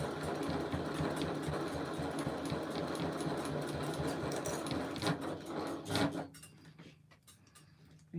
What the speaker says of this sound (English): So I'm now going to stitch that bit of binding that we've just joined onto my bag.